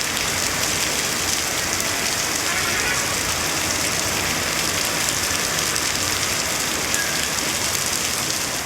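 Heavy rain pours steadily over Dindigul in Tamil Nadu, a dense continuous hiss of downpour with no letup, loud and even throughout with no voices.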